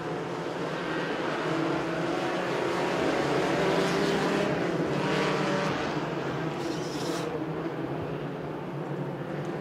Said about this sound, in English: We're green flag in the Todd Spivey Memorial Cajun Mini Stock race.